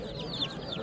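Poultry at a chicken market in Andijan: chirps and clucks from birds amid a busy, murmuring market background, with faint voices nearby.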